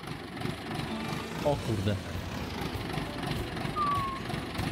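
A tractor engine drones steadily in the Farming Simulator video game on the Kolonia map, a low continuous rumble running beneath a man's brief spoken remark.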